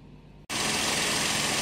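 A Peugeot 208 engine idling during catalytic converter diagnosis starts abruptly after a brief quiet lull, then runs as a loud, steady, close hum with broadband noise.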